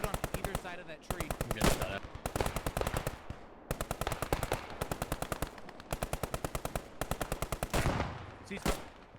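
Automatic machine gun fire in a realistic military shooter game, sounding as repeated rapid bursts of loud, close shots separated by short pauses throughout.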